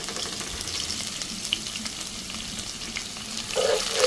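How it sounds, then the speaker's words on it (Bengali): Chopped onions sizzle and fry in hot oil for plain white pulao, a steady close crackling hiss that grows louder near the end. "এখন এখানে আমি পেঁয়াজ কুচি দিয়ে দিলাম।"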